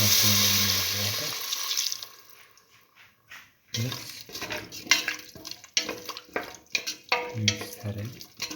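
Water poured into a pressure cooker pot of seasoned mint potato rice mixture, a steady splashing pour at first, then stirring and clattering kitchen sounds close by.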